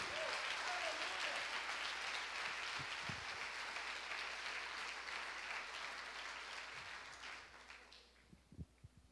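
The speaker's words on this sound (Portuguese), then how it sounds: "Quem entendeu, deu uma salva de palmas bem forte para o Senhor Jesus" A church congregation applauds heavily and steadily for several seconds, then the clapping thins out and fades away.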